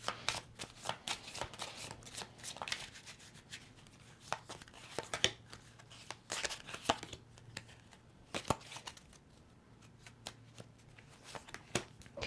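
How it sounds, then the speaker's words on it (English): Tarot cards shuffled by hand in a quiet room, a run of crisp riffling and slapping bursts with short pauses between, close and fairly soft, with no talking. "I'm going to pull some timing cards to see if we can narrow in on the timing."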